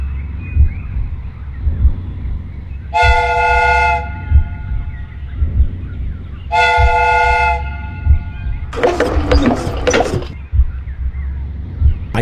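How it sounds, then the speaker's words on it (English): Two long, loud steam train whistle blasts, each lasting about a second, sound over a low rumbling background, followed by a burst of hissing steam, from a homemade replica train whose whistle is powered by a pumped-up fire extinguisher. "The steam whistle is ready to be used."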